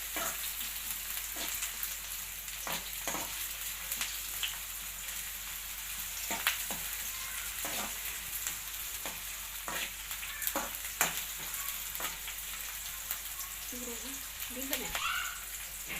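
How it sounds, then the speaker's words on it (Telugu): Onion paste frying in a pan for paneer curry, a steady low sizzle with frequent short scrapes and taps of a spoon stirring, close and moderate in level, with brief faint voice sounds near the end. "ఈ ఆనియన్ పచ్చి వాసన పోయే వరకు కొద్దిగా ఫ్రై చేసుకోవాలి"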